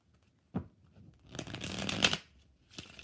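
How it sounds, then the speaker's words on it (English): Tarot cards are shuffled close by in two bursts: a sharp single riffle snap, then a longer, dense rustling shuffle, followed by a faint brief flutter at the end, with no talking. "2 more shuffles."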